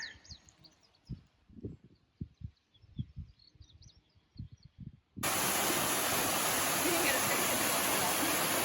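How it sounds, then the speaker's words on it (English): Soft footsteps and quiet shuffling give way abruptly to the loud, steady rush of a small waterfall close by. "Here's our little waterfall"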